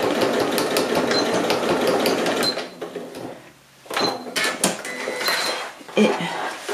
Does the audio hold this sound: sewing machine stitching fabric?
yes